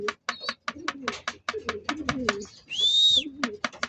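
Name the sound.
hungry pigeons cooing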